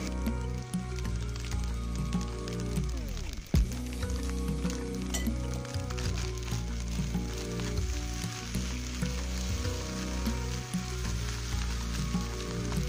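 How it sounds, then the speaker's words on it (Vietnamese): Fried rice stir-fried over high heat in a pan sizzles and crackles steadily, with scraping and stirring of the utensil throughout, close and moderately loud with no talking. "lúc chiên cơm các bạn để lửa thật lớn nha là mình trộn cho đều tay lên"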